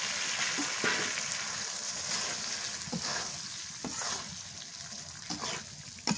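Cow brain frying in a pan of cooked spices, a steady broadband sizzle with occasional sharp spits and crackles, moderately loud and close, no voices.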